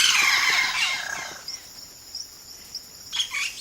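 A bird in the Amazon rainforest sings a loud descending call, then a series of brief varied chirps and whistles mimicking many calls, close and clear against quiet surroundings.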